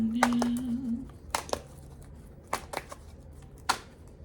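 A tarot deck being shuffled and handled, with sharp intermittent riffles and card slaps spaced a second or so apart over a low background hum.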